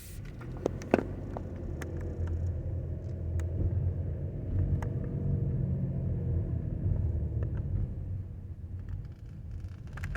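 A burgundy pickup truck drives through a residential neighborhood, its low engine and tire rumble holding steady close by before easing off, with a few faint clicks over it.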